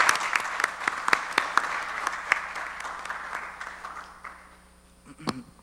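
Applause from a forum audience after a talk on Mexico–Japan technological cooperation, with distinct claps ringing out over a steady patter. It fades gradually to near silence, and a faint voice begins at the end.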